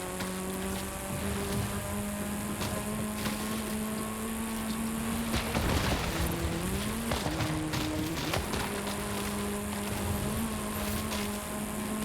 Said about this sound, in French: Là, il gueule le moteur, mais comme il faut, hein.